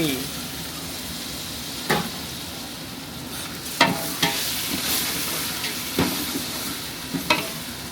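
Tomatoes frying in a large pot for a 6 kg mutton biryani, giving a steady loud sizzle throughout with occasional scraping and stirring clinks of a utensil against the pot.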